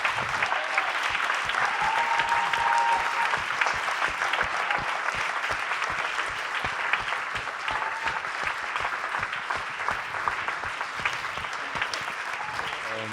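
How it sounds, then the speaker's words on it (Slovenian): A film premiere audience gives the crew a sustained round of applause, dense and steady clapping from a large crowd lasting over ten seconds, with no speech. "Prosim, še en velik aplavz za ekipo družine."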